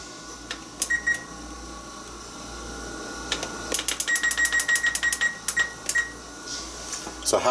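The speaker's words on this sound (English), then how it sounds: "Set my timer for half an hour." A kitchen timer being set in a home kitchen while cooking pulled pork: a series of sharp, quick beeps and clicks, sparse at first, then a rapid run of button presses, close and fairly faint over low background hum.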